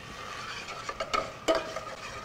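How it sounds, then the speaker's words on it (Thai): Curry paste stir-fried in hot oil in a pot for a Thai herbal sea bass curry, a soft continuous sizzle with a few scraping stirs of a utensil, the loudest near the middle, close by with no talk. "ตัวพริกแกงเราผัดให้สุกดีนะครับ"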